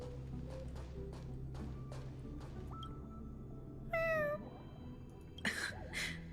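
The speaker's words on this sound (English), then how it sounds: "Oh, it's the cat." A cat in the video game Honkai: Star Rail gives a clear rising-and-falling meow near the middle, then a shorter second cry, over a low game music bed with light taps.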